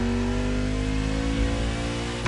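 A luxury hypercar with four-figure horsepower revs in The Crew Motorfest, its engine a steady loud harmonic drone that rises slightly in pitch while holding close and continuous, with no talk.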